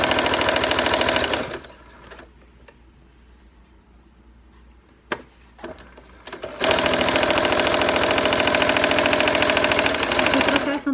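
Sewing machine stitching a crib sheet, running loud and steady, stopping for a few quiet seconds with small clicks and handling noises, then running again.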